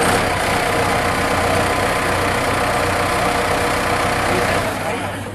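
A 1996 Case IH 5240 tractor with 577 hours runs at a farm auction in Iowa, its engine holding a loud, steady low idle throughout before easing slightly at the end.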